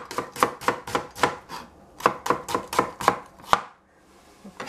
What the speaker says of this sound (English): We cut the onion,